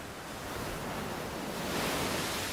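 Ocean waves break on a Hawaiian shore in a dense, roaring wash of surf that swells slightly louder toward the end, steady and close with no other sounds.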